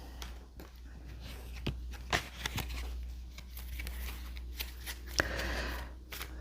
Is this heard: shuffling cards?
yes